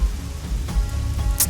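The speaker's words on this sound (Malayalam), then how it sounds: "മഴ പെയ്യുന്നു." Rain falling outdoors, a steady patter of drops with a couple of sharper splashes, moderately close and continuous.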